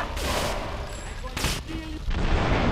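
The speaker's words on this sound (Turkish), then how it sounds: "Araba patladı ya." A car exploding in the game GTA 3, heard as loud booming blasts and gunfire-like bursts across the whole stretch, with a burst near the middle and more blasts at the end.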